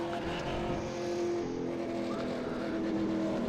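V8 Supercar race car engine in iRacing at Mount Panorama, a struggling, damaged engine near failure, humming continuously and fairly loud with a steady tonal drone and slight pitch shifts, no talk over it.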